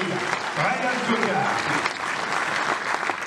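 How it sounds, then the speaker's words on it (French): Audience applause at a cycling race team presentation, steady clapping from a crowd throughout with voices mixed in. "Mais vous pouvez applaudir hein,"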